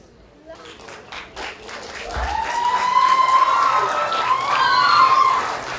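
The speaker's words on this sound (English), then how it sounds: "I think that deserves another round of applause" Applause from the crowd at a Farmers' Week opening ceremony, rising steadily from scattered claps into a dense, sustained round that holds loud to the end, with voices and whistle-like tones mixed into the noise.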